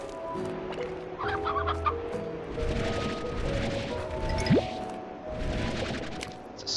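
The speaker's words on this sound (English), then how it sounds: "It's a stony hen." A stony hen in the Slime Rancher video game clucks repeatedly in short, uneven bursts, mixed with game effects and a brief rising synthetic swoop.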